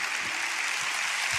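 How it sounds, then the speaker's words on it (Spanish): A church congregation claps in steady, dense applause. The sound is brief and even, with no speech over it. "Dale un aplauso a la gente que está en casa."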